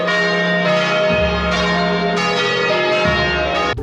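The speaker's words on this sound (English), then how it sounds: "there are like 12 churches in this town, and apparently they turned all the bells on for Monday morning" Church bells ringing on a Monday morning in the hilltop town of Spello, Italy, a loud, steady peal of overlapping resonant strikes with rich lingering tones, repeating every second or so without talk.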